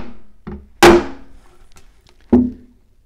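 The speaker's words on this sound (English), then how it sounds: "just one assertive bang into it would do it" Hammer blows drive a fret into the ebony fingerboard of a classical guitar, with a couple of lighter taps followed by two sharp, loud knocks, each ringing briefly in a quiet workshop.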